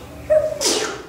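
A single sharp human sneeze with a short voiced intake followed by a bright, breathy burst, close and fairly loud, heard during a sermon.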